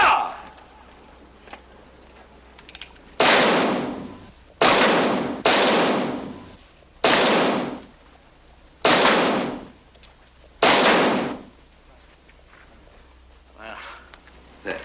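Pistol shots fired at bottle targets during a friendly shooting contest in a western setting, six sharp loud cracks spaced roughly a second or two apart, each with a short decaying tail.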